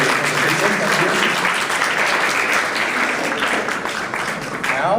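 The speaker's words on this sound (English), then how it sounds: "Another round of applause as for the presentation" Delegates applauding in a large general assembly hall at a model UN closing day, a steady wash of clapping from a big crowd, loud and continuous, easing slightly near the end.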